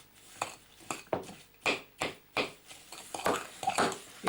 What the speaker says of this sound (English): To do is mix it all round until butter dissolves in.